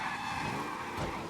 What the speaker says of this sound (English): Race car fast.